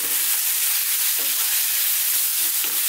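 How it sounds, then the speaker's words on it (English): Beef pieces sizzle loudly in a hot pan on high heat, a dense continuous hiss broken by soft scraping strokes as the meat is stirred, close up with no talking, browning for a beef mushroom curry. "let's just throw this around in the pan for about 4 minutes"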